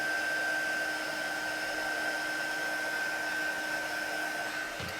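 A heat tool blows a steady, even whoosh with a faint whine while melting embossing powder on a sunflower card, running continuously at moderate level with no speech.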